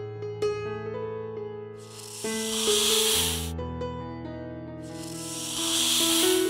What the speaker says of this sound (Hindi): रोहन की बातें सुनकर सांप गुस्सा हो जाता है।